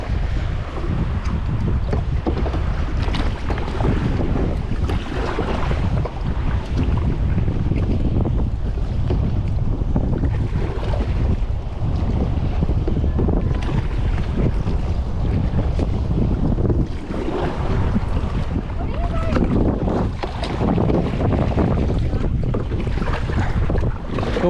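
Kayak paddling across open water off Hawaii toward an island, with steady sloshing and wash close to the microphone beneath constant wind buffeting and noise, continuous throughout.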